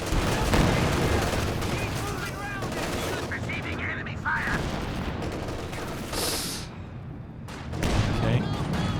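Artillery shells pound in succession during a Company of Heroes 2 creeping barrage, with dense, continuous explosions and gunfire while a commentator talks over the din.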